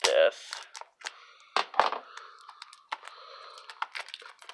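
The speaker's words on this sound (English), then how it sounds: "Let's get my trusty scissors right here and cut it open like this." Scissors snip and slice open a cardboard game box in a sharp burst of cutting and crinkling, followed by scattered clicks and rustles as the packaging is handled, close and fairly loud.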